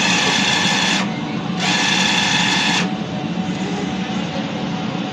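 A DTF printer runs a print head test after maintenance, giving a steady mechanical whir with two loud bursts of carriage motion that stop and start.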